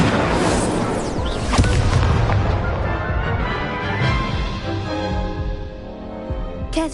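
Incendio fire spell cast in Hogwarts Legacy, a loud whooshing burst with booming impacts and crackling that rumbles on and fades over several seconds, ending in a short sharp hit.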